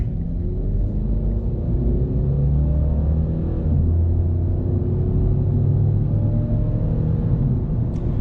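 A 2022 Subaru BRZ driven on a town road, its engine accelerating through gentle gearshifts: a steady low rumble with rising engine tones and brief dips at each shift, heard from inside the cabin with no talk.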